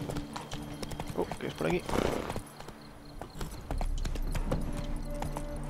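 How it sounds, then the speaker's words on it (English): Horse hooves clip-clopping in the fantasy RPG The Witcher 3 as the horse Roach moves along, a steady rhythmic patter mixed under a voice speaking Spanish and game sounds. "¿Mi caballo dónde está?"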